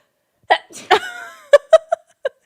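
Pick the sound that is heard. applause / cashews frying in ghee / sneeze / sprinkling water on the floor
sneeze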